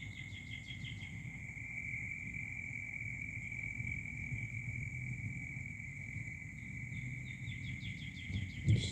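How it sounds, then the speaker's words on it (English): Outdoors in early spring, small birds chirp in faint bursts at the start and end over a steady high insect-like drone, all quiet and distant. "supposed to hear all those birds in the background"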